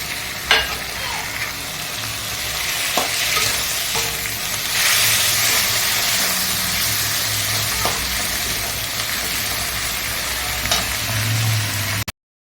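Taro greens with hilsa fish head and cumin paste sizzle steadily in a pan, a continuous close frying hiss with occasional scrapes and stirring clatter throughout.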